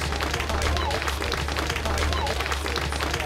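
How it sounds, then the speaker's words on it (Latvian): Applause from an assembled crowd greeting the new owner of a 37-year-old white Zhiguli car, steady sustained clapping mixed with a voice speaking over it. "Es lūdzu sveikt ar aplausiem jauno īpašnieci Viktoriju."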